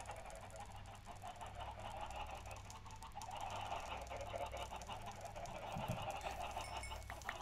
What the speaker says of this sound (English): I also need to do something with those chickens because they're driving me mad